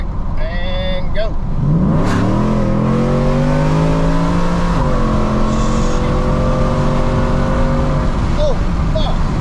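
A Ford Lariat truck engine revs hard while pulling a wrecked 2012 Mustang GT. The loud, close engine climbs steadily in pitch over several seconds, levels off, then drops back as it eases.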